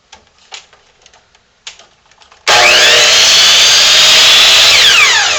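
A power saw trims a thin sliver off the end of a wooden board in a wood shop. A few soft knocks of handling come first, then the blade cuts loud and steady to the end.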